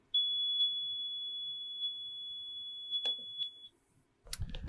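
A pure 3.4 kilohertz sine tone sounds as a thin, steady, piercing whistle for several seconds with a few faint clicks, then stops, followed by a brief rustle.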